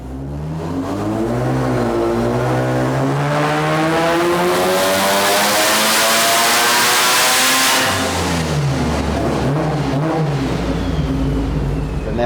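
A Mazda rotary engine revs hard and loud on a tuning setup, climbing steadily in pitch over several seconds, easing back around the middle, then rising again, with no talk over it.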